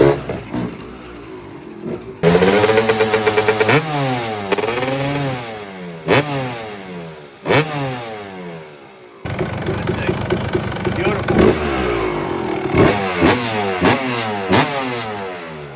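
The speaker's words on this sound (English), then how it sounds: "Feast your eyes on the class of 1999 Kawasaki KX250." A 1999 Kawasaki KX250 two-stroke motocross bike revs hard and loud up close, its crackling engine climbing and dropping through repeated throttle blips, with brief pauses between bursts.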